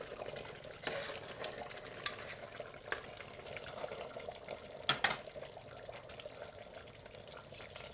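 Water poured into mutton in a pressure cooker, a faint running trickle with a few clinks of pot and utensil, quiet and close.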